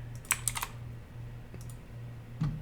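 A password is typed on a computer keyboard in a short, near burst of clicking keystrokes, a few quick taps, a pause, then one more tap, over a low steady hum.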